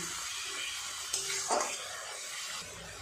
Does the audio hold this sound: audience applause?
no